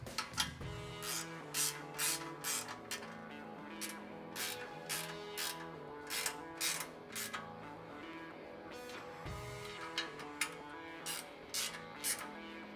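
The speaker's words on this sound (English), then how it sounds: "you can go ahead and tighten down the 4 5/8 bolts" A ratchet clicks in repeated bursts while 5/8 bolts are tightened on a rear bumper being installed on a Chevrolet ZR2, crisp close ratcheting with short pauses between runs.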